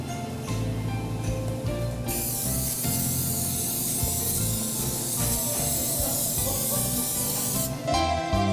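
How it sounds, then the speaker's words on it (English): A steady hissing spray of palm cooking oil onto a pan runs for several seconds without pause, close by, with a brief quieter lead-in before it. "Spray the pan with this palm spray."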